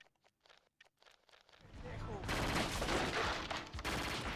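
Gunfire in the video game Scarface: The World Is Yours starts as sparse sharp cracks, then swells into a dense, continuous barrage of shots that grows loud and stays heavy to the end.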